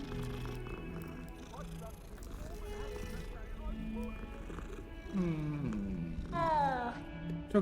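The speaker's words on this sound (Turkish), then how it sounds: "Aa kedi." A cat in the Hogwarts Legacy video game gives several rising meows near the end, loud and close, following a stretch of quieter game ambience with a voice talking.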